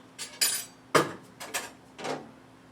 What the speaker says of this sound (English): So olives have to be cut up, unfortunately